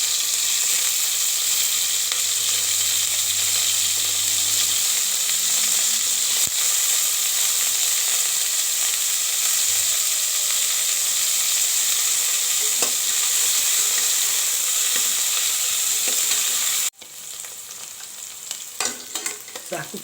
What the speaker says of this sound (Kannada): ಪನ್ನೀರನ್ನು ಇದರಲ್ಲಿ ತುಂಬ ಫ್ರೈ ಮಾಡಬಾರ್ದು, ಸುಮ್ಮನೆ 1-2 ನಿಮಿಷಷ್ಟು ಫ್ರೈ ಮಾಡಿದ್ರೆ ಸಾಕು.